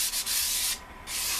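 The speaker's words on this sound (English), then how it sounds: "Just sanding up to 120 now." Live edge wooden shelves sanded up to 120 grit, a close, loud, hissing rub in bursts with short pauses as the sander moves across the wood.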